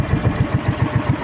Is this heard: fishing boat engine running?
yes